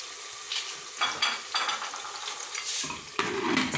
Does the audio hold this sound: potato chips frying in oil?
yes